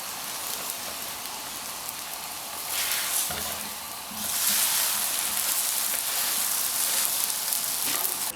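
A radish paratha sizzles steadily in a hot pan, a soft continuous frying hiss that swells slightly partway through as it cooks, with no talking.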